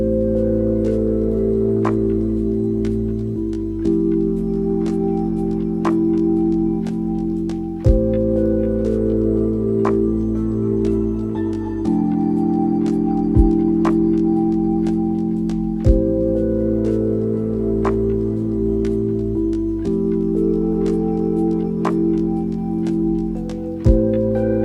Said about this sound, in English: And I think this track is just sleepy ambient lo-fi